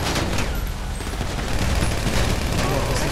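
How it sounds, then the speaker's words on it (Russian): Dense, continuous gunfire in the video game GTA, a loud, rough barrage of overlapping shots filling the whole moment, with voices talking underneath. "Так стреляй в них, нахуй. Так я стреляю, я одного убил."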